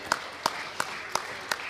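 Applause for a presenter at the INFOCOM 2023 award ceremony: five sharp, evenly spaced claps in a steady rhythm, moderately near, over a low hum of room noise.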